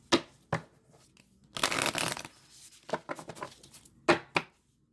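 Tarot cards are shuffled up close: quick riffling bursts, a longer flurry, then crisp taps as the deck is squared, with quiet gaps between.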